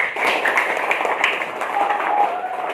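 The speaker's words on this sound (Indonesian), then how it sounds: "Tepuk tangan untuk semuanya karena kita sudah melaksanakan kegiatan presentasi hari ini" A classroom of students applauding after their presentations, a lively spread of many hands clapping at moderate loudness that runs through the whole stretch.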